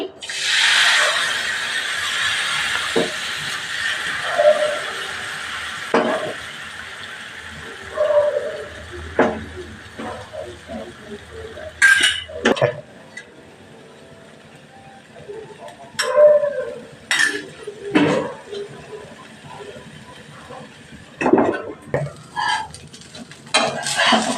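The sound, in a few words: ragi dosa batter cooking on a pan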